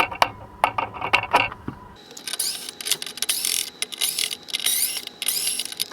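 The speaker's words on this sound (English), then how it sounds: "We're going to take these screws out." Small screws being backed out of a Cessna SkyWagon trim wheel assembly, a run of close, dry ratcheting clicks and metallic ticks with no talk.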